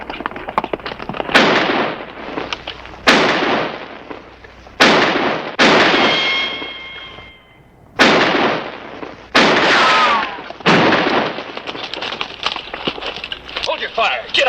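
Gunfire from a western TV shootout: several loud, sharp shots in sequence, each followed by a long ringing echo decay, close and dominant, with a ricochet whine mixed in.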